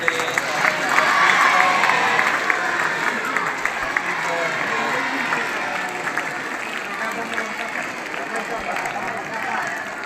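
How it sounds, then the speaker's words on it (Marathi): A crowd claps in a dense, sustained round of applause at a school birthday celebration, with voices mixed in throughout. "जोरदार टाळ्या वाजवून त्यांना शुभेच्छा देऊया"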